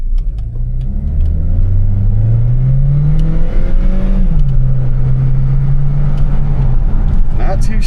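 A Buick Regal, freshly repaired after a timing chain fix, drives off and accelerates, its engine note rising through a steady low rumble then holding at a higher pitch, close and continuous with road noise underneath.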